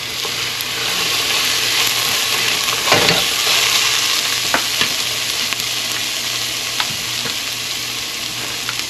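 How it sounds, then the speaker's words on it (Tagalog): Chicken meat fries in a pan with a loud, continuous close-up sizzle, broken by occasional clicks and scrapes of stirring. "Nandito po tayo sa aking pagluluto ng karne, chicken."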